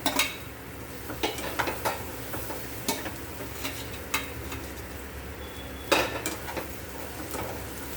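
Fried brinjals for guthi vankaya curry are tipped into masala in a pan and stirred on low heat, with a spoon clinking and scraping at intervals over a faint sizzle.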